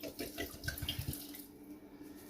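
Water pours into a container while a green drink is being made, a steady close splashing stream lasting about a second and a half before easing off into quieter trickling.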